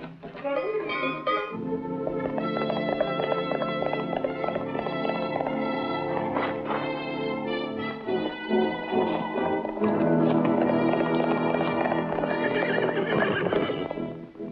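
A horse whinnies loudly over a steady clip-clop of hooves in an old western film, with music-like tonal layers running throughout and no talking.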